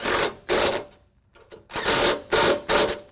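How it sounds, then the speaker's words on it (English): A power tool whirs in repeated short bursts while tightening bolts that fix a Go Rhino RB10 drop step running board to its middle mounting bracket, loud and close with brief pauses between pulls and no talking. "Now we're going to tighten up the board to the bracket."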